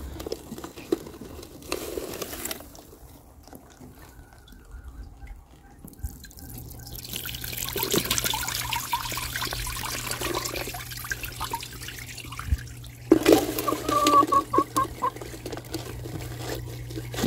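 Water is poured from a plastic cup through a towel laid over a bucket to strain out wood-ash solids, giving intermittent splashing and trickling that swells into a steady pour near the end.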